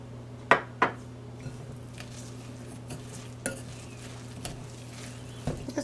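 A salmon patty mixture is stirred together with meal and flour in a bowl, giving a few sharp clinks and soft, quiet scraping over a steady low hum, with no speech.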